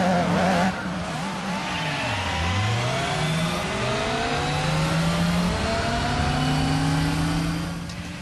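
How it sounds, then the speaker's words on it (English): Racing cars in the video game Gran Turismo 4 scream past with rising and falling engine revs and tire squeals, a continuous loud blend of several cars. "This week we're looking at racing games, in particular Gran Turismo 4."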